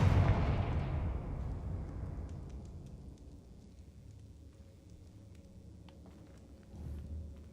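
A Confringo blasting spell in Hogwarts Legacy goes off as a loud, deep explosion that rumbles and fades over several seconds, followed by a quieter thump near the end.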